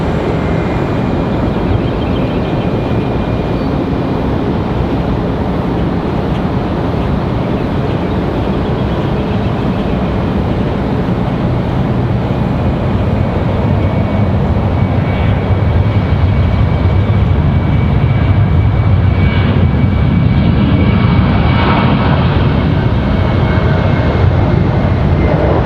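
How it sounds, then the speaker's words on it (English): A United Airlines jet in retro livery at Raleigh-Durham airport rumbles with a broad, steady engine roar that swells slightly toward the end, loud and continuous with no voices over it. "we have the United retro livery on the move"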